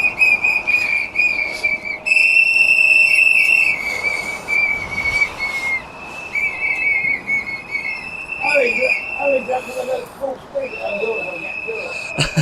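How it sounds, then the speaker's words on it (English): Loud, shrill whistles blown by protesters outside a migrant hotel, sustained piercing blasts overlapping one another with a steady crowd noise beneath. "Press the intercom and blow the whistle at the same time. Oh God, these whistles are loud, lads."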